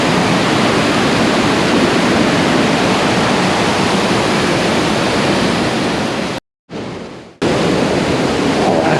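Bald River Falls near Tellico Plains, Tennessee, roars as a loud, steady, broadband rush of falling water heard up close, with a brief dropout near the end before the roar resumes.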